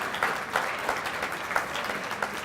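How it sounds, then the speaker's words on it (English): Audience applause at a football hall of fame induction ceremony in Leominster, a steady patter of many hands clapping at moderate distance, with no voices over it. "I think we should give him a round of applause for that."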